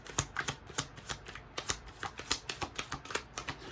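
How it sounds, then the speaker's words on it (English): Tarot cards shuffled by hand: a quick, steady run of crisp riffling snaps and soft slaps repeating about three times a second, close and clear, with no voices. "So let's get some tarot cards out for that."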